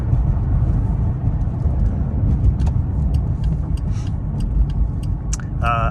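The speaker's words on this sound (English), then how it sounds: "We will do some freeway driving" A one-owner 1998 Oldsmobile with 28,000 miles cruises along a city road, giving a steady, loud rumble of engine and tire noise throughout, with a few faint clicks over the top.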